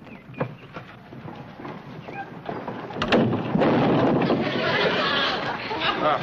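Horses pulling wagons clop and rumble in an old western setting, hoofbeats and wheel noise building louder and steadier over the second half, mixed with voices and background chatter.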